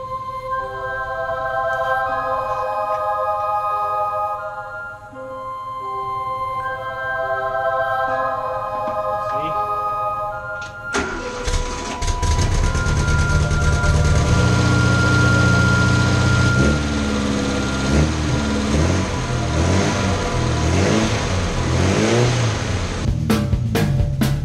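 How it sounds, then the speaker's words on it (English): A restored VW Bug engine idles with a steady low tone, then abruptly catches and revs up loudly, settling into a rough, throbbing, close-up run with rising and falling revs. No voices. "Gonna see if we can crank this thing up and move a few inches."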